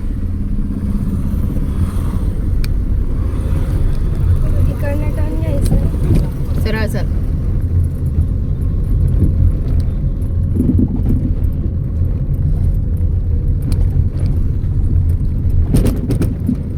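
A car drives with the clutch worked through gear shifts, its engine a steady close rumble with brief rattles and clatter, while people talk over it.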